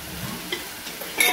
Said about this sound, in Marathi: याला चांगलं असं भाजून घ्यायचं आहे, मिक्स करून घ्यायचं आहे सगळं कमी गॅस करून